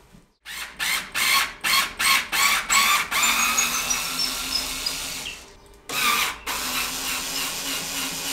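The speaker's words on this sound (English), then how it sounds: "I'm going to have to open up this bottom compartment to get to them." A power screwdriver backs screws out of the bottom compartment of an old reed organ, with rapid whirring bursts in a steady run, then a long whir, a pause and one more burst, close and without speech.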